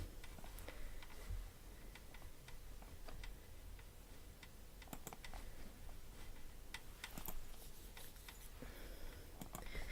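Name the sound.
computer mouse clicking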